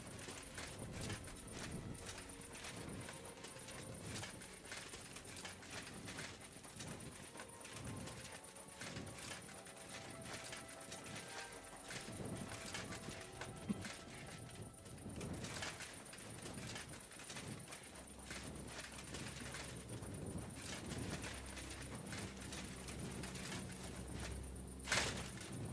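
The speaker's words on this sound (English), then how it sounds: "Keep hearing horses." Horse hooves clip-clopping in the medieval game Kingdom Come Deliverance II, a steady run of thudding steps under busy ambient game noise and occasional mechanical clatter, moderately loud throughout.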